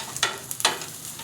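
Food sizzling and roasting in a pan, turned to cook on both sides until browned; two short crackling bursts stand out over a faint, steady hiss.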